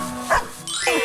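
A cartoon plant with claws barks in short, close yips and bow-wows in a SpongeBob garden scene, over a faint music bed.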